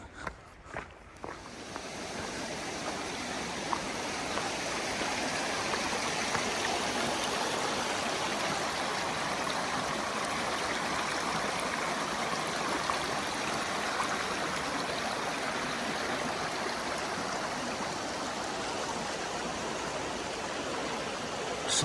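Stream of water running beside a hiking trail on the Appalachian Trail, a steady broad rushing wash that continues throughout, with a few footsteps near the start.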